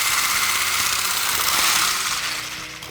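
A steady, loud whirring of an electric hand whisk beats carrot cake muffin batter up close, its buzzing tone easing and quieting toward the end.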